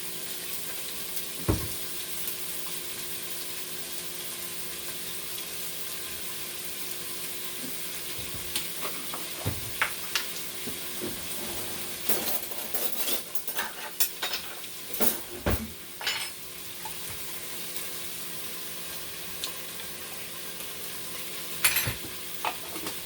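Garlic sizzling in a pot of smoky sweet potato chicken stoup, a steady frying hiss with occasional stirring scrapes and utensil clinks, close and continuous with no talk.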